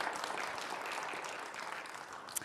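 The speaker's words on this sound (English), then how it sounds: "let's thank them with a round of applause as well" A church congregation applauds its outgoing leaders. Faint, steady clapping from a crowd runs throughout at a modest distance, with no one talking over it.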